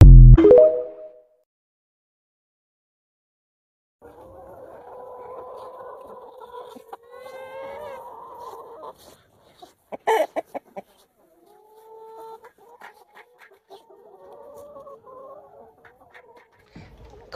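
Farm chickens moved onto a rye field cluck and murmur softly at close range, with a sharp rooster-like call near the start, short squawks in the middle and scattered low clucks after a quiet pause.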